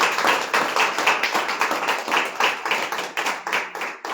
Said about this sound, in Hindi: इनके लिए जोरदार ताली बजाएं।